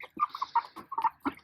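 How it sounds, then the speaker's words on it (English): A flock of young farm chickens due to become laying hens, clucking close by in a quick uneven run of short throaty calls with small gaps between them. "flock of chickens that are going to be laying eggs for us."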